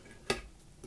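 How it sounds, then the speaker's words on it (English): A big clear ice cube dropped into a cocktail glass, heard as a single sharp clink with a short ringing tail, fairly close and alone. "Throw my big ice cube in."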